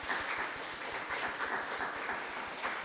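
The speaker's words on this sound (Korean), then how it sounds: "우리 옆에 있는 분들 박수로 환영했으면 좋겠습니다." Church congregation at a Sunday worship service applauding to welcome fellow worshippers: a steady, even wash of many hands clapping together, moderately distant and sustained throughout, no talking.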